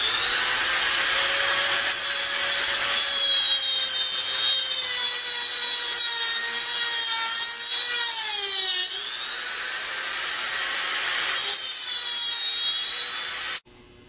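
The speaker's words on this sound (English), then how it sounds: "So we have to scribe a line in the width of the side of the bearing." Cutting a scribed line into the outer race of an alternator bearing from a GM AD series alternator, a steady high-pitched grinding whine with shifting pitch, close and loud, briefly easing midway then resuming before an abrupt stop.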